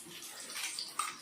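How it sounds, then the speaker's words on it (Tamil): Water from a rinsed mixer jar poured into brinjal masala in a pan, a short, soft splashing trickle with a small gurgle near the end. "கொஞ்சமாக மிக்சி கழுவி தண்ணி சேர்த்துருக்கோம்."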